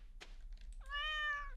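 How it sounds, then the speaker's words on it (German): A cat meows in the video game Stardew Valley: one short sound, then a single long, drawn-out meow. It comes close and clear with no talk over it. "Tut so gut, dich miauen zu hören."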